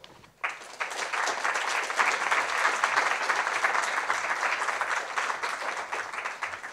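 An audience at a Black History Month event bursts into sustained applause, dense clapping that starts abruptly and holds steady and loud for several seconds.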